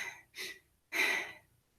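A person's voice imitates a monster panting with two heavy, close breaths, the second longer and louder than the first, with no other sound.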